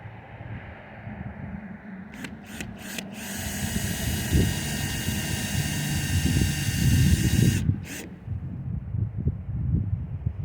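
A power drill with a dull bit whines loudly for several seconds, starting and stopping in short bursts before a sustained run, over low rumbling background noise.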